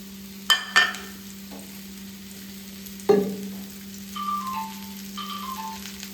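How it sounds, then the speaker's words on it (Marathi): Mushrooms sizzle softly as they fry in oil in a hot pan, with a few sharp clinks and scrapes of stirring and faint tonal squeaks near the end. "आपल्याला इथे तेल टाकून आणि आपला मशरूम आहे ते थोडंसं फ्राय करून घ्यायचं आहे"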